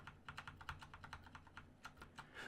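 Razer Blackwidow Chroma V2 mechanical keyboard being typed on, a quick irregular run of crisp key clicks, fairly faint and distant in the background.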